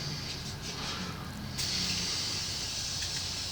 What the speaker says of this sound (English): I'm gonna take my Morphe spray.